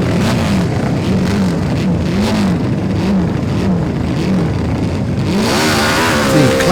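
Classic racing motorcycles at the 2018 Classic TT, including a Matchless G50, Seeley and Honda, roar past close by, their loud engines rising and falling in pitch through a sustained run with a fresh surge near the end.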